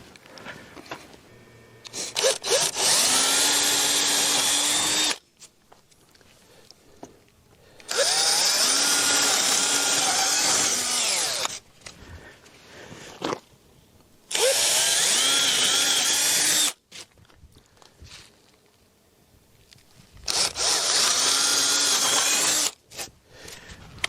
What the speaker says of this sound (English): Grab a drill, we'll shoot some holes